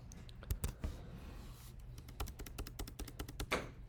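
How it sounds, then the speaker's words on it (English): Computer keyboard typing during a programming lecture, with quick irregular clusters of crisp key clicks at moderate, close level and no talk over them. "So I'm going to start typing down here."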